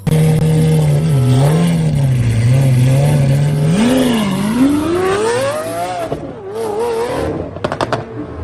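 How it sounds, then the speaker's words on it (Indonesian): A Lamborghini Aventador race car engine revs loudly and continuously, its pitch holding low, then climbing and wavering upward before dipping near the end, with no voices. "Wow, mobil balap Lamborghini Aventador."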